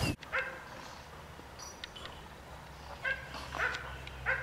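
A bully breed dog, a short, strong, well-muscled female, gives several yips and short barks at a middle distance over a steady low background hum.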